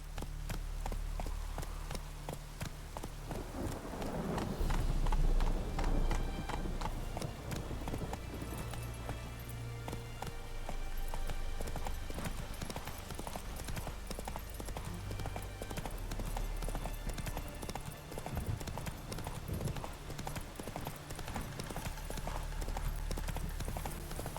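In the video game Witcher 3, the horse Roach gallops with a steady, rapid clip-clop of hooves that continues throughout, moderately loud and close.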